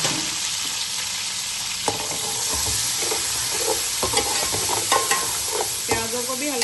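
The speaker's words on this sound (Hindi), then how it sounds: "अब इसी ऑयल में हमने प्याज शामिल करने हैं" Two medium onions, roughly cut, fry in oil in a pan for a turnip and chicken dish, with a continuous close sizzle and occasional stirring knocks and scrapes, no voices.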